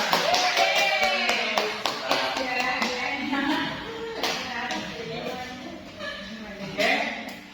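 A classroom of pupils claps in brief scattered bursts, mixed with tapping and shuffling, while voices talk over and around the applause.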